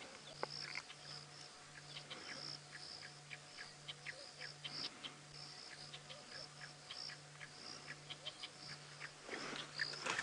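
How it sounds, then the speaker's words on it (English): Birds chirp and call in short repeated bursts at a distance, over a faint rhythmic insect-like pulse in quiet open surroundings. "we can hear some birds chirping on that"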